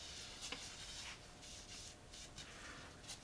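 A cloth or pad rubs finish into a wooden cutting board in steady strokes along the grain, a soft, close, faint hissing swish repeating several times without speech.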